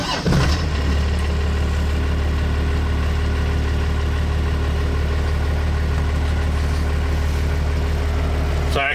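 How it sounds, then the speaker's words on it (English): A first-generation Cummins diesel truck engine cranks briefly, catches and settles into a steady, loud, rumbling idle that holds unchanged to the end. "the only thing left to do is fire this thing up and go for a test drive"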